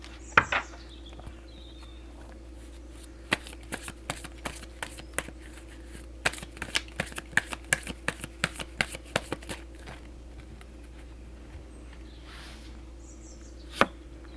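Tarot cards are shuffled before three are drawn, producing a string of crisp, close card slaps and riffles, sparse at first and then clustered in a quick burst before tapering off, over a faint steady background hum.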